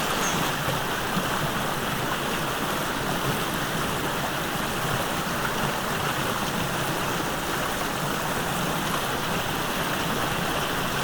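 Steady rushing water from a waterfall in Ibigawa, Gifu, Japan, a constant broadband roar heard from a moderate distance, unbroken and even throughout with no voices.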